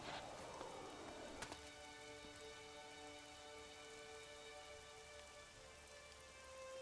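Steady rain falls in the video game Elex, a soft continuous patter with a sharp splash or impact early on and faint tonal game ambience underneath, with no talking.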